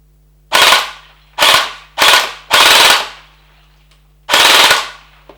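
A Fortnite-style Nerf blaster converted to fire gel balls, shooting through a dry barrel with no gels loaded, gives five loud, sharp bursts at close range in an uneven rhythm, with short gaps between them and no talking.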